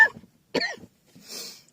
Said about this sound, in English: I need to cough so much.